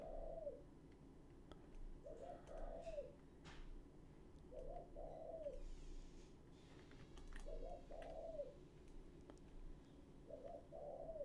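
A dove or pigeon coos in a repeated soft phrase about every two and a half seconds, moderately distant, over a steady low background hum with faint clicks and no voices.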